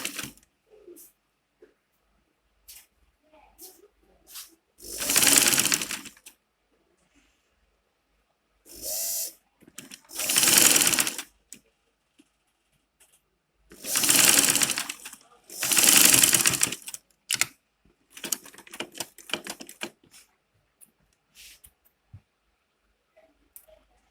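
A sewing machine stitching a face cap in several short, loud bursts of running, separated by quiet pauses and small handling clicks.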